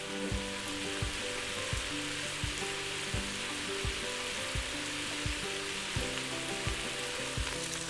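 Sausage browning in a pressure cooker, a steady crackling sizzle of frying fat with a regular clicking pulse running through it, moderately quiet and with no talk.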